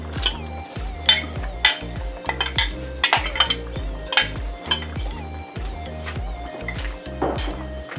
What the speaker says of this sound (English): I'll be putting them in the pot and I'll be giving it a stir.